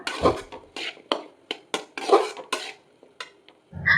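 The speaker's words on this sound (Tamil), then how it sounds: "சேர்த்து அந்த மசாலாவில் நல்லா மிக்ஸ் ஆகிற வரைக்கும் கலந்து விட்டுக்கணும்" Boiled jackfruit seeds being stirred into masala in a metal pan, heard as a series of distinct scraping, clinking strokes of a spoon against the pan, close up and evenly spaced, with no talk.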